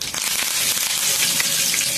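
Curry leaves crackle and sizzle loudly in hot oil during a South Indian tempering, a dense continuous frying hiss with no voices over it.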